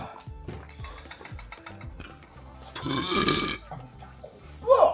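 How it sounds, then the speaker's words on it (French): A single loud, close burp rolls out for about a second during a travel meal in India, set against faint kitchen clatter and background noise. "Quand je rote."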